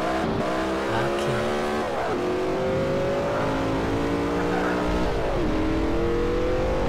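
A game police car driving off, its engine revving loudly and climbing in pitch through repeated gear shifts, close and continuous, with no voices over it.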